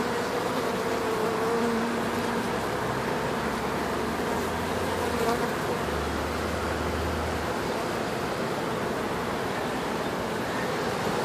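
Honeybees buzz in a dense, steady drone during a hive cut-out at an outdoor bar in Auburndale, Florida, heard up close under a constant rush of background noise.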